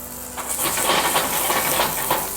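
Green beans sizzle in a hot pan, a steady bright hiss with faint crackles, close and alone.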